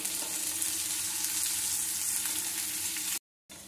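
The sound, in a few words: stirring and frying vegetables with bell pepper and capsicum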